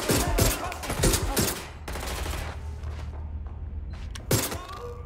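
Rapid bursts of gunfire in the video game Watch Dogs: Legion crackle in quick volleys, then fade to a low hum before one more sharp shot.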